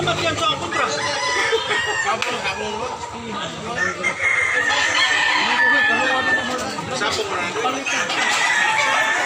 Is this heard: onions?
no